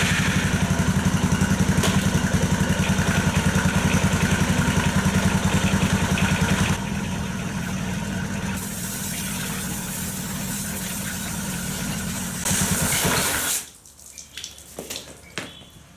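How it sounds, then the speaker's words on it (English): A motorcycle idles in first gear with its chain spinning freely during a chain clean. The engine hums loud and steady, shifts tone partway through, then cuts out, leaving only faint clatter. "start the bike, put it into first gear, so that's the chain's just wrapping around by itself"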